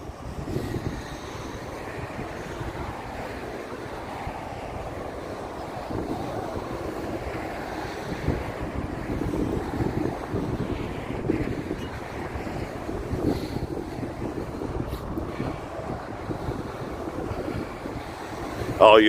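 Ocean breeze at Bolsa Chica wetlands, Huntington Beach, rumbles steadily across the microphone, a low, continuous wind roar with occasional stronger gusts, nearby and fairly loud.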